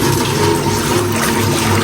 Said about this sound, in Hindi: ये मैंने इसके अंदर 2 गिलास पानी का रख देने।